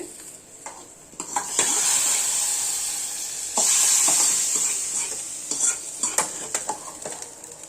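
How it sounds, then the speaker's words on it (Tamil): Hot curry leaf tempering poured into sambar, bursting into a loud sizzle that swells, eases, then flares again, with spoon stirring and metal pan clinks throughout; no talk. "சும்மா ஒரு கைப்பிடி அளவு கருவேப்பிலை. இப்போ இந்த சாம்பாரில் ஊற்றிக்கலாம்."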